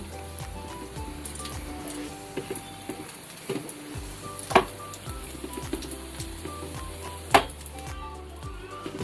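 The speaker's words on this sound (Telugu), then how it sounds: "ఇంకా అది వేగిపోయినాయండి ఇప్పుడు కారం వేస్తాను" Stuffed brinjal frying in a pan while chili powder goes in, a soft continuous sizzle close by with occasional light stirring taps and clinks, no talking.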